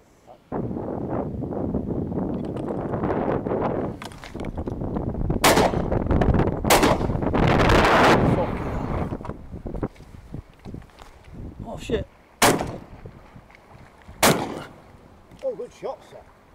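Shotgun blasts ring out during a wildfowling outing, several sharp reports spread across the clip with wind buffeting the microphone and movement between shots.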